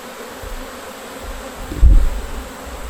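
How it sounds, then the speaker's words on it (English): A dense, steady buzz of many bees hums close by around an open hive, swelling briefly louder for a moment before settling back. "That's a lot of bees."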